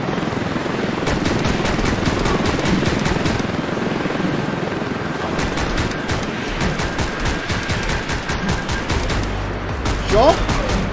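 Rapid bursts of automatic gunfire crackle in the video game Speed Limit, a fast action game set aboard a train, firing continuously over a busy layer of other game sounds.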